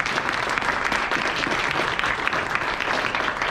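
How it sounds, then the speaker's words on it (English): Audience applause closes a robotics team's technical presentation at an FRC bootcamp: dense, steady clapping from a room full of people, holding at an even level throughout with no voices on top. "Please give Clem a round of applause."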